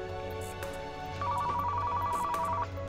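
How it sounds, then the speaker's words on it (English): A phone rings in the Car Mechanic Simulator 2015 video game, a clear electronic ringtone with a repeating tonal melody over quiet background game ambience. "Yeah, the phone will ring,"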